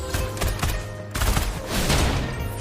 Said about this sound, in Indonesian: Oke, tembakan.